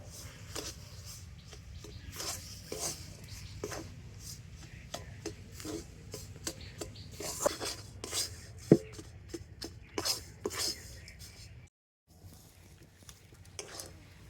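Palm pulp dough with added water being stirred and mixed by hand in a bowl, giving soft repeated scraping, rubbing and patting sounds at close range with a brief pause near the end.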